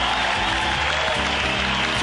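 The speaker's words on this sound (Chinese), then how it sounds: "还不快掌声给他们鼓励一下" Dense, loud applause from a campus competition audience for a performing band, a continuous roar of clapping filling the whole stretch.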